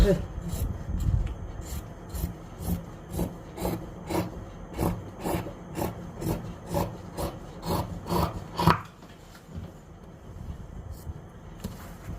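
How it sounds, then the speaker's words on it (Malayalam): Scissors cut through a fabric piece for a nighty, heard as a steady series of about fifteen crisp, close snips in an even rhythm before falling quiet. "നമുക്ക് ഈ പീസ് കട്ട് ചെയ്തെടുക്കാം."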